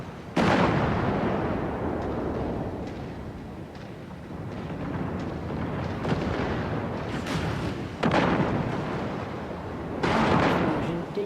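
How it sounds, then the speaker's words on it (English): Loud, continuous booming explosions and artillery blasts in the MechWarrior 5 Mercenaries mech combat game, with heavy rumbling bursts that swell at several points, including two sharp, strong blasts near the end. "Explosion detected."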